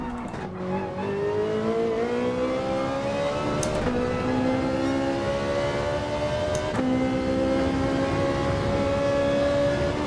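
Ferrari 458 GR.3 race car engine at full throttle in Gran Turismo 7 at the Nürburgring, revving loud and close with rising pitch through gears, brief dips at shifts around four and seven seconds, steady and continuous.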